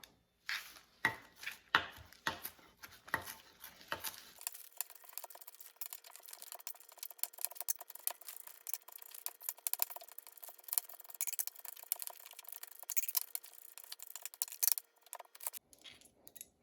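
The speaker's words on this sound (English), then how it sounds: "I'm just going to chop up the rest of this dill and this parsley" A knife chops fresh dill and parsley on a cutting board, a steady run of quick, crisp taps close by with no talking.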